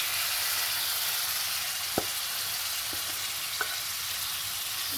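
Fish roe frying in oil-released spice masala while being stirred steadily, a continuous close sizzle with a few soft scrapes and taps of the spoon against the pan.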